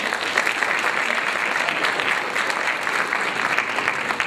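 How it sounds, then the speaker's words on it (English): Audience applause on a comedy show: loud, steady clapping from a full crowd, continuous and unbroken throughout. "Y'all give a round of applause for those who came before them."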